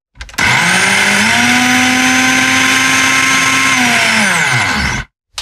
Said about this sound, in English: Then we put the blender on.